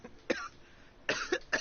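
A Genshin Impact character gives a short fit of coughing: one rough cough, a pause, then two or three quick hacking coughs, close and clear with no talk.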